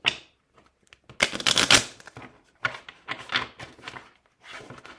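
Tarot cards riffled and shuffled in a few quick bursts, crisp flapping and clicking close by with short pauses between.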